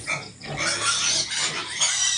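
Pigs on a pig farm at feeding time grunt and squeal close by, a loud, continuous jumble of overlapping calls with no clear pauses.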